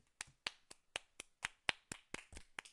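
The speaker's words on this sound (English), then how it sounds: "Give this man a round of applause." A single pair of hands claps about a dozen times in a steady, evenly spaced rhythm for Neil Armstrong, each clap crisp, close and isolated, with silence between them.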